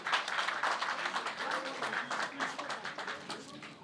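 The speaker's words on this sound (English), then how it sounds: "Please, let's clap for ourselves." An assembled gathering at a memorandum signing ceremony claps together, a brisk, moderately loud patter of hands in a quick uneven rhythm that carries on for a few seconds.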